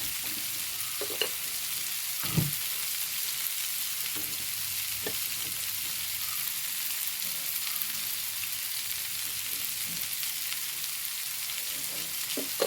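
Turmeric and salt frying in hot oil for a bottle gourd and prawn stir-fry, a steady close sizzle running throughout with soft scraping of a stirring spoon and one brief knock.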